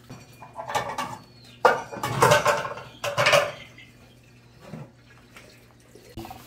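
Dishes being washed and put away in a home kitchen: bursts of clattering crockery and rattling utensils mixed with running water, separated by quieter pauses.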